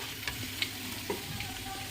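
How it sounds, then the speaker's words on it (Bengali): Steady sizzling of duck meat frying in hot oil, with a few small pops and crackles scattered throughout. "মাংসটা ভাজা হতে লাগুক"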